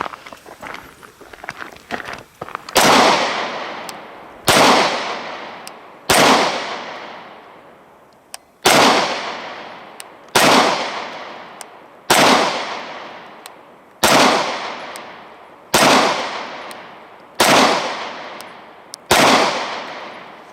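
9mm pistols, a Walther PPQ and a Glock 19, being fired: about ten loud, sharp single shots at a steady, unhurried pace, each followed by a ringing decay, after quieter shuffling and handling sounds.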